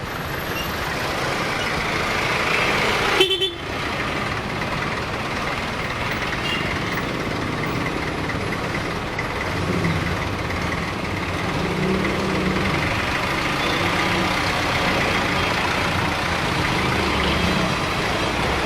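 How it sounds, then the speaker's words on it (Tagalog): Trucks idle and rumble in slow traffic at a corner on the road to the Malabon Fish Market, a steady near engine drone with a brief sharp burst early on, like an air brake release. "So medyo may konting traffic lang po sa may kanto ng paliko"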